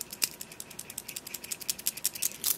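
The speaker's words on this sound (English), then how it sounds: "But I love that ratcheting sound." Close, quiet ratcheting of an everyday-carry tool being wound, a rapid run of crisp mechanical clicks from the gears, evenly spaced and repeated with no talk.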